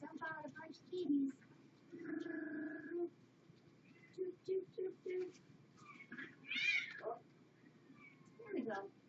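Several small, high kitten meows repeat at intervals, mixed with scattered voices and some rustling in the background.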